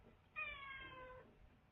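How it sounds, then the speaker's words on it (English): A cat gives one clear meow, a drawn-out tonal cry of about a second, faint and close indoors with no voices. "He's meowing at me."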